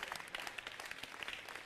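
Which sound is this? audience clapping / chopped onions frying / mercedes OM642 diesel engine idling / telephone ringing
audience clapping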